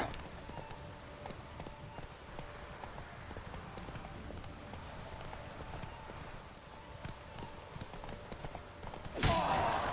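Horse hooves clip-clop steadily in The Witcher 3, a brisk even rhythm over game ambience, with faint musical tones threaded through. A louder rushing burst breaks in near the end.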